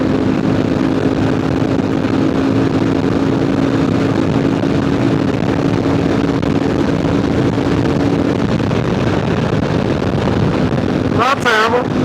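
A KLR650 adventure motorcycle's engine drones steadily while accelerating in fifth gear on a highway, buried under loud, constant wind roar, with a brief tonal sweep near the end.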